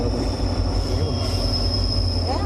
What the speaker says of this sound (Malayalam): ട്രെയിൻ പോകുന്നുണ്ട് ഇവിടെ പോയി.